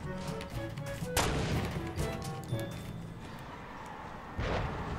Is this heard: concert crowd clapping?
no